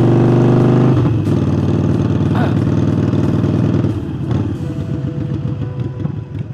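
A Harley-Davidson 48 motorcycle fitted with a new air intake idles loud and close, its deep, lumpy exhaust rumble pulsing steadily and softening slightly toward the end, with no voices over it.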